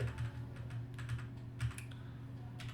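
Keys clatter in steady, quick bursts on a computer keyboard while C++ code is written, with a low constant hum underneath and no talk.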